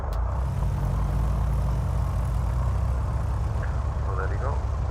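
The left engine of a Piper PA-44 Seminole starts and settles into a low, steady rumbling run, with a voice talking over it.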